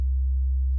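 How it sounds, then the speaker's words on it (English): A synthesizer holds a pure, steady sine wave tone, low and loud, droning evenly for just under a second with no other sound. "So there's our sine wave."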